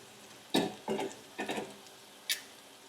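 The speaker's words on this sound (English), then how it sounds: "just simply toss it in the pot, scrape it all out, and let's give it a good old mix" Cooked pasta is tossed and mixed with pesto in a pot. A utensil makes four or so quiet, close, short scrapes and soft clinks, spaced unevenly, with no talking.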